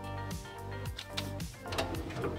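A heat press closing down on a shirt, giving a few faint mechanical clunks and slides up close in a quiet room.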